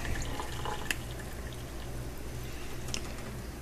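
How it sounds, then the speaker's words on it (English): Cloudy buttermilk is poured off freshly made homemade butter, a faint, quiet liquid trickle with a few small drips and splashes over soft background hiss. "I usually just pour the buttermilk off"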